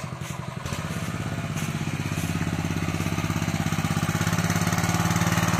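A small farm engine machine used for cleaning at a dairy cow barn starts up with a clatter, then runs at a steady, rapid, loud chugging beat.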